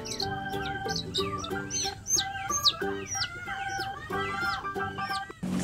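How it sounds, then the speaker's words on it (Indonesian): Young chicks and chickens kept as pets cheep and cluck continuously, a dense overlapping chorus of high peeping and short clucks close by, without any talk. "ini anak ayam yang tadi kita dapatkan nih"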